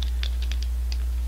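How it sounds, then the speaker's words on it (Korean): Scissors snip through a coffee package: several short, crisp cuts in an uneven rhythm, close to the mic, over a steady low hum. "가위로 자르네."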